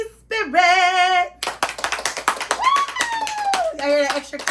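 An audience claps in a burst of sharp hand claps, mixed in with a voice speaking and calling out loudly over them.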